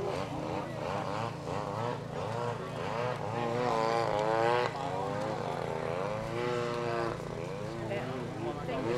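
A propeller-driven Edge 540 aerobatic plane flies at an outdoor rally and air show, its steady engine drone running throughout beneath continuous commentary.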